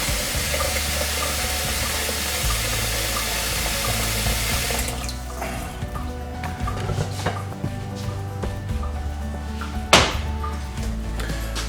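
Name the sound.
fresh water being poured for chaga tea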